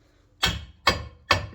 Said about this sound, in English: give it a little tappa with the pry bar and hammer